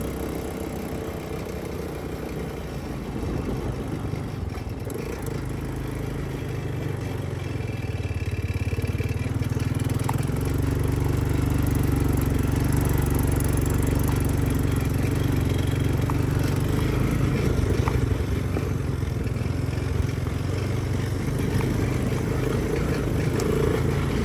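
An Arctic Cat 250 ATV engine idles with a steady, close mechanical chatter and low rumble, growing slightly louder partway through and running on without speech.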